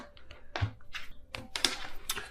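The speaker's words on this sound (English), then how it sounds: "just a few shuffles and then I'll cut the deck" A deck of tarot cards being shuffled, a quick run of crisp papery taps and riffles in uneven bursts, close and fairly quiet, with no talking.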